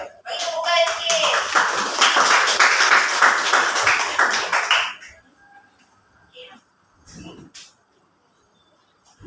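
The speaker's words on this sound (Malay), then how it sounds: "Bagi tepukan sikit." Schoolchildren in a primary Islamic studies class clap together for a classmate: a dense, lively burst of many small hands clapping for about five seconds, then it stops abruptly, leaving a quiet room with faint voices and small noises.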